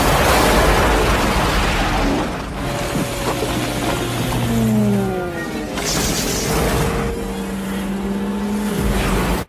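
A gas explosion in a disaster film strikes an astronaut: a loud broadband blast at the start, followed by rumbling and descending, whooshing tonal sweeps as the debris and roar fade.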